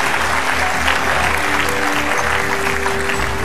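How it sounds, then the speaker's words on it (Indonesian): Steady, dense applause from a large audience at a Mata Najwa talk show celebration event in Indonesia, loud and continuous throughout with no pauses. "Ini kita kasihkan tepuk tangan sambutan sekali lagi."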